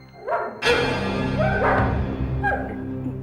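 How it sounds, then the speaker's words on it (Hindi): A dog barks a few times in quick bursts, fairly close, with a steady low hum underneath and no talking. "टोनी भौंक रहा है ना?"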